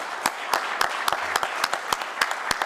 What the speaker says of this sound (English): Round of applause to everybody.